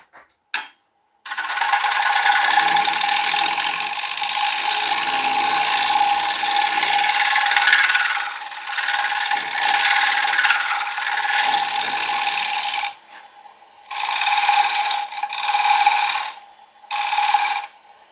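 A woodturning lathe cuts into spinning oak with a loud, steady rasping scrape that runs for long stretches, then breaks into short bursts separated by quiet gaps near the end.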